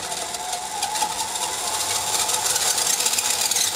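Team Associated CR12 RC car with an upgraded motor crawling at low throttle, a close, steady electric whine and gear buzz with faint rattling that grows slightly louder.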